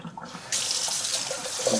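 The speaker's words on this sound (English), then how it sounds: "I'm just going to strain out the water here." Water from a pot of cooked rattlesnake pole beans pours into a strainer in a sink, a sudden steady hissing splash that starts after a brief quiet moment and continues close and loud.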